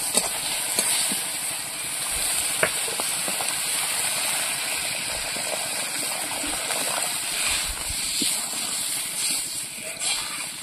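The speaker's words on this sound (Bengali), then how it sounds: "মশলাটা কষানো হয়ে গেছে, এবার জল দিয়ে দেবো।" Water pours into a pan of fried spice paste with turmeric for a fish curry, giving a steady rushing hiss and sizzle that carries on for several seconds.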